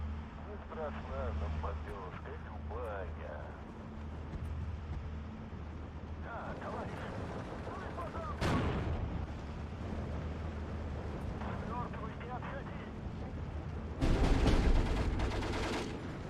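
Rapid machine gun fire crackles in a World War II real-time strategy battle in Steel Division 2, with Soviet Maxim guns firing from buildings; bursts recur over a steady rumble of distant artillery and battle noise, with a loud blast near the end.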